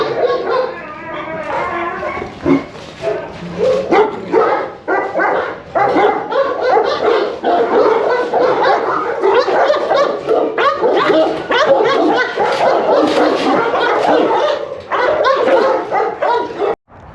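Several dogs bark and yip continuously at a Presa dog kennel, loud and close, with overlapping barks and some whimpering throughout, while a person talks over the din.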